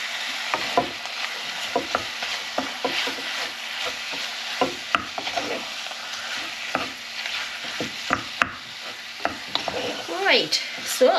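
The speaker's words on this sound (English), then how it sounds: "I'm just going to mix this through and get this all browned off" Mince for a Scottish mince round browning in a frying pan, a soft continuous sizzle broken by frequent scraping strokes of a spoon stirring through the meat at an uneven rhythm, close up and without talk.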